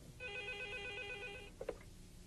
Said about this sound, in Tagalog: pakisagot ang telepono